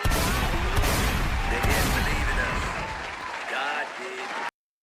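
A dense, continuous crackle of many rapid gunshots, loud and unbroken for several seconds before cutting off abruptly.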